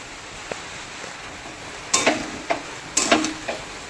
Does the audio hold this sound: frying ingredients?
yes